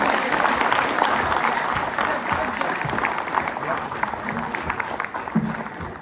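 Audience applause at a Tamil New Year speech event, sustained dense clapping from a large crowd that carries on for several seconds with a faint voice underneath.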